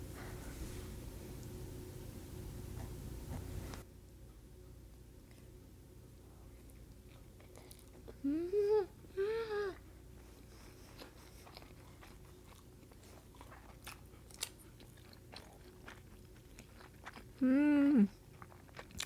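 Tuna sushi being eaten in a home mukbang, with soft chewing and biting sounds at close range between quieter pauses, plus a few short voiced hums.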